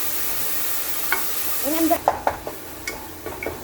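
Tomatoes added to a hot pan for rice cooking, with a sizzle and frying hiss throughout and several stirring scrapes; a voice speaks briefly over it.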